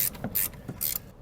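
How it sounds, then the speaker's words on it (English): 13mm ratchet spanner tightening suspension nuts on a Land Rover Discovery 3 during rear spring work, a few quick, close metallic ratchet clicks in short bursts with no talk. "13mm spanner"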